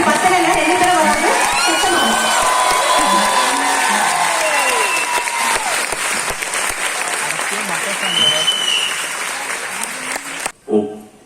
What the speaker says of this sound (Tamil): கைத்தட்டல் பத்தல